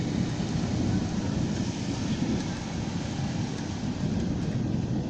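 Thunder from a lightning strike during a moderate summer storm over Garges-lès-Gonesse near Saint-Denis, a loud, steady, broad rumble that rolls on without a break for several seconds.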